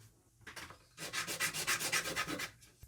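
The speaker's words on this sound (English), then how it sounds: "I'm gonna sand again." A car end post is sanded by hand with short rapid rubbing strokes, a quick burst followed by a longer rhythmic run of about a dozen scrapes, close and fairly quiet, with no talking.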